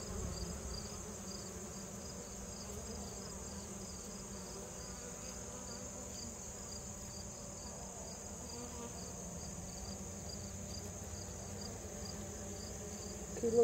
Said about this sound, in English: Busy bee.